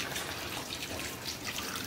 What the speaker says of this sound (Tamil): ஸோ இப்போ நம்ம கொஞ்சம் தண்ணி ஊற்றிக்கலாம்.